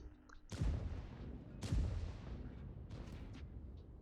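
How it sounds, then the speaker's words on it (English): Tank cannon fire in World of Tanks, two heavy booming shots about a second apart with rumbling decay, then fainter distant shots, loud and without talk. "Here I hear the AMX fire at my teammate who is pushed up"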